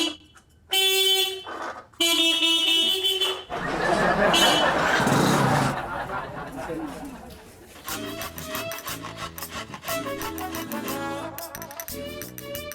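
Several sharp car horn blasts sound close by, followed by noisy rushing and then a rhythmic mechanical clatter with background chatter.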